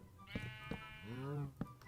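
A sheep bleats in the Minecraft video game, a clear wavering bleat near and fairly loud, framed by a few short clicky game sounds.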